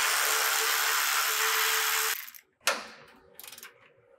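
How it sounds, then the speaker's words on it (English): Nuts are being removed from the 14 mm transmission crossbar bolts on a 2010-2024 Toyota 4Runner. A loud, steady mechanical whir lasts about two seconds, then stops and is followed by a few short rattling clicks. "we're going to remove the nuts off of our transmission crossbar bolts. These are going to be 14 millimeter."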